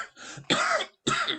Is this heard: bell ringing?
no